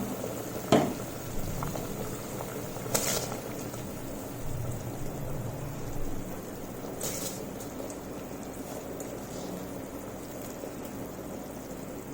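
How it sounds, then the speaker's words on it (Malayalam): Water at a steady rolling boil in a pot while cooking prawn rice, a continuous soft bubbling hiss with a few faint clinks. "ഇപ്പോൾ വെള്ളം നന്നായിട്ട് തിളച്ച് വന്നിട്ടുണ്ട്."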